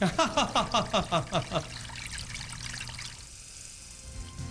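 A urine stream splashes into a toilet, beginning with a series of rhythmic gurgling pulses and then settling into a steady, soft trickle, close and fairly quiet.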